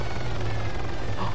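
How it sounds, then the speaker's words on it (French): A white helicopter in the Arma 3 Altis Life video game, its rotor and engine giving a loud, steady droning roar that holds without a break and plays alone, with no voices. "il y a un hélico qui revient"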